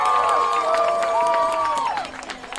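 A crowd gets loud at a youth Little Division football Super Bowl, Chargers vs Tigers, with the Tiger fans nearby: a steady roar of cheering and whistling that stays dense throughout and dips slightly at the end.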